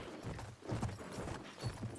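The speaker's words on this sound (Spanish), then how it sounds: "Vamos otra vez, caballito." Horse hooves in Battlefield 1 clatter in a quick, soft galloping rhythm at low volume, a few muffled beats over a muddy background.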